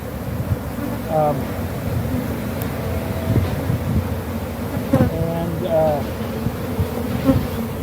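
Honey bees buzz around a defensive hive, a steady swarm hum punctuated by individual bees zipping close past the microphone, with some wind noise.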